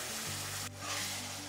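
Tomato paste hitting fried onions in a hot pan for vegetable biryani, a sharp loud sizzle that dips briefly then surges back, with a low steady hum beneath.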